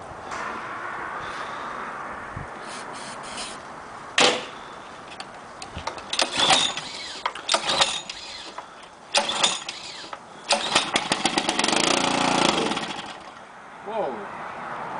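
A 5 hp Honda engine on a Craftsman air compressor, primed with starter fluid, is cranked in a series of sharp, uneven bursts and brief sputters that build into a loud stretch near the end, with faint voices underneath.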